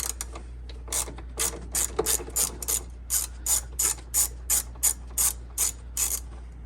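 Ratchet wrench turning an 8mm fastener on a car's air box, a run of sharp rapid clicking bursts in an even rhythm, close up and loud, with no talk.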